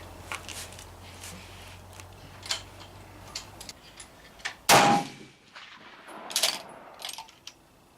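A Swiss K31 rifle fires one loud, close crack at an outdoor shooting range, bracketed by faint ticks and clicks of handling in an otherwise quiet setting.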